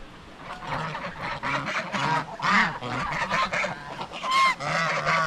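A flock of farm geese honks loudly and repeatedly at close range, overlapping calls forming a continuous noisy chorus with no talking.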